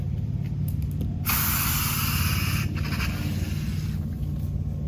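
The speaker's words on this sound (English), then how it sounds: "let's spray these bad boys down" A steady, loud spray of water from a garden hose nozzle onto a central air conditioner's outdoor unit, hissing continuously with brief shifts in intensity, no voices.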